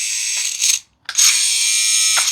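RC rock crawler transmitter with a micro switch on the steering driving a servo motor, giving close, high-pitched mechanical whirring in two bursts separated by a brief pause, ratchety and buzzing, with no speech.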